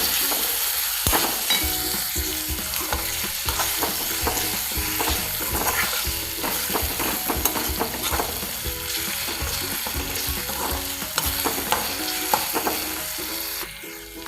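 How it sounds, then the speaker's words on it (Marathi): Finely chopped tomato stirred into a sizzling drumstick masala in a pan, a loud continuous frying hiss with repeated scraping and clinking stir strokes, close and without talk. "आता यात मी बारीक चिरलेला टोमॅटो घालून घेते आणि यालाही छान असं मिक्स करून घ्यायचं."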